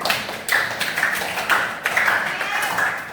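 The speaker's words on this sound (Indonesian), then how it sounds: "beri tepuk tangan" Short burst of clapping and hand taps from a small group, brisk and fairly close, with chatter mixed in.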